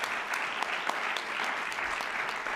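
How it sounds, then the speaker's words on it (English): Audience at a political coalition-building event in Wisconsin applauds a speaker, steady massed clapping with a few sharper individual claps standing out, sustained and fairly close, with no talk over it. "So I'd love it if you gave my friend Josh some applause."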